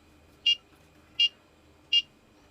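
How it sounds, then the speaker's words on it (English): An automatic hanger dryer's piezo buzzer giving three short, evenly spaced high-pitched beeps, clear and close over a faint background hum. "the piezometer buzzer will sound 3 times"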